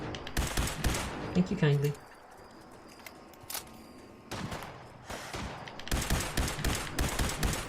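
Laser weapon shots hit Mirelurks in Fallout 4's Far Harbor, with quick bursts of zapping fire at the start and again near the end and a brief spoken line in between.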